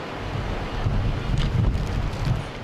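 Waves surge against the shore in strong typhoon wind, with heavy wind buffeting on the microphone over a rolling low roar of surf, and a few brief splashes breaking through.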